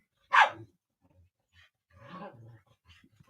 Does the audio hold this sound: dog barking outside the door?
yes